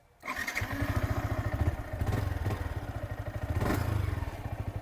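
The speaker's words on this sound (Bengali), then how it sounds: "আপনাদের ইঞ্জিনের সাউন্ডটা শোনাই দিই" A Yamaha XSR 155 motorcycle engine cranks and fires, then idles with a steady, rapid exhaust thump, recorded close and loud with a couple of brief revs and no talking.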